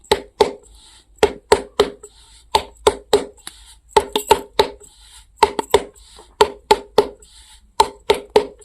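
Rhythmic slaps of palms patting jowar roti dough flat by hand, sharp close claps coming in quick bursts of two or three with short pauses between, alone with no talk.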